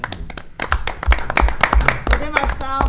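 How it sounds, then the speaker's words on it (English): Brief clapping from a few people at a town board of selectmen meeting, sharp uneven hand claps with some speech mixed in. "We'll give ourselves a round of applause."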